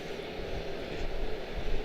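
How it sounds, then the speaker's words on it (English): An American Airlines Boeing 777-200 arriving from Dublin touches down at Charlotte-Douglas International, a steady broadband engine rumble and roar heard from a distance, fairly soft and continuous with a slight swell near the end. "777-2, American 725 out of Dublin, sneaking in like a ninja. That was a super smooth touchdown."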